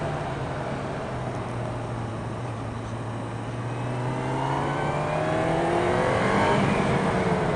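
2018 Honda CB1000R four-cylinder motorcycle on a highway, engine pulling up to about 8,000 RPM: a loud, continuous rising whine and growl that climbs in pitch steadily, with rushing wind noise and no talking.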